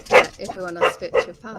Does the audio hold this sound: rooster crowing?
no